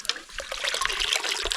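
Cold tap water trickles and splashes close by in an uneven stream while squid and rockfish are cleaned under it.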